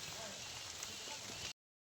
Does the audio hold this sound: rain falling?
yes